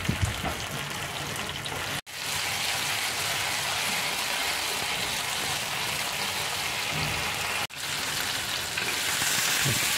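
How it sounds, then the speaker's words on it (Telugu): Chicken leg pieces frying in a pan, a dense steady sizzle that breaks off sharply twice, around two and eight seconds, before resuming at full strength. "అలాగే ముక్కకి అంటకుండా కొంచెం ఇలా కలుపుతూ ఫ్రై చేసుకోవాలి."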